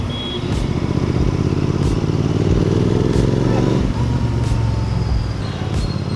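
Royal Enfield GT 650 twin fitted with a Silver Stallion performance exhaust, running at steady idle with a deep, continuous burble and a slight rise in revs midway, close and loud throughout.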